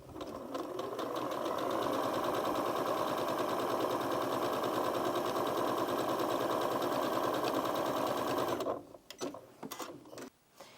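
A Janome Memory Craft 9480QCP sewing machine stitches quilting rows in a steady, fast mechanical whir that runs loud and even for several seconds, then stops, leaving a few short clicks and handling noises.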